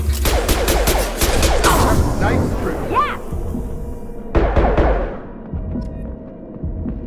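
Rapid gunfire bursts in the video game Mass Effect 2, loud dense rattling volleys filling the first seconds, then a sharp renewed burst and a few scattered shots fading into a low hum.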